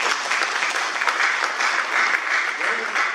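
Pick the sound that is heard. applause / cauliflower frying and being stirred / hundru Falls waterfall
applause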